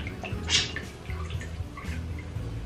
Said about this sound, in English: I'm just going to lift it up out of the water like so and let it drip dry